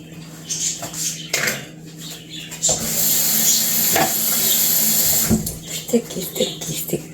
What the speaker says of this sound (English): Time to get the spatula.